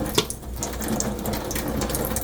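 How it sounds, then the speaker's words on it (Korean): Bottled water runs in a thin stream over cleaned anchovies in a strainer, a continuous close splashing trickle with faint clinks underneath. "손질한 거를 생수로 한번 살짝 헹굴 거예요"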